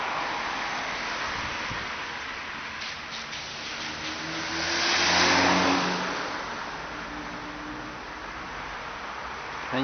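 Cars driving past on a snowy London street, a steady traffic hiss with a louder pass swelling and fading near the middle, engines humming under slush-like tire noise.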